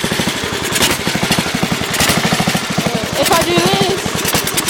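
A Sears Suburban lawn tractor engine in need of a carburetor rebuild runs close by with a steady, rough pulsing chug, while someone speaks briefly over it.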